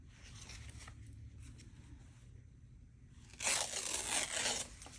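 A quiet rustle of handling gives way to a loud, close ripping sound lasting about a second as a sheet of paper is torn apart.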